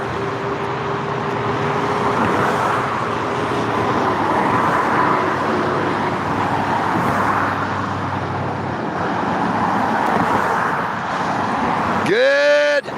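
A truck passes on a busy road, a broad rumbling wash of engine and tire noise that holds steady throughout, with other traffic in the background and a brief sharp tonal sound near the end.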